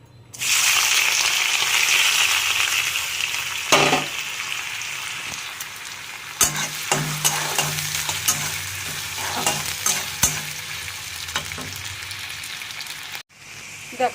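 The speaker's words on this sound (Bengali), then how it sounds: "এবার গরম তেলে আলুটাকে ভেজে নেব ভালো করে দেখো" Potato pieces fry in hot oil with a steady, loud sizzle and occasional stirring clatter, heard alone without talk.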